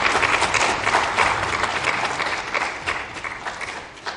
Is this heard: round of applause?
yes